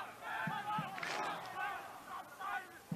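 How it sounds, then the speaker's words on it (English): Schoolboys rugby league match crowd of students roaring and chanting in waves, a loud distant mass of voices rising and falling across the stands. "Now the students in the crowd, they find their voice."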